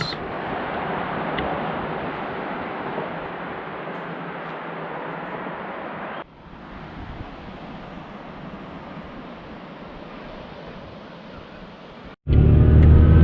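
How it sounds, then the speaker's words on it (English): A car driving through the coastal town of Fort Bragg, California, on the North Coast: a steady interior road rumble and hiss, broken by two abrupt cuts, the last section louder and closer. "I'm driving through the town of Fort Bragg, California on the North Coast"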